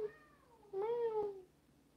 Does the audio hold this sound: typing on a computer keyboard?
no